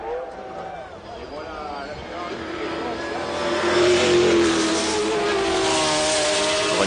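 Ferrari 333 SP prototype race car engine at the 1995 24 Hours of Le Mans, a high-pitched V12 wail rising as it accelerates and draws nearer, heard under an excited commentator's voice.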